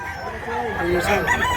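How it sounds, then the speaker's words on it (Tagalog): A rooster on a farm in Mantalungon, Barili, Cebu crows and clucks close by, a short rising call over background chatter as people talk nearby. "Gandang manok."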